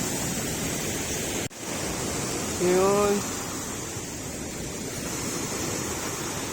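Strong ocean surf on a beach at Pagudpud in the Philippines makes a constant, loud roaring rush mixed with wind, and a person speaks briefly over it.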